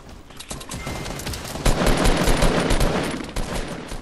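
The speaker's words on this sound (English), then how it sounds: "We're getting shot at." Rapid video-game gunfire in Fortnite, with dense overlapping bursts of automatic shots and loud cracks throughout, close and continuous with no talk.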